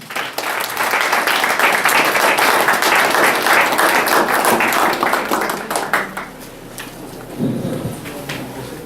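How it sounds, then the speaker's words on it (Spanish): Strong audience applause welcomes a speaker at a book presentation, a loud, dense burst of clapping that holds for several seconds, thins out, and then trails off into scattered claps and room noise. "Vamos a recibirlo con fuertes palmas."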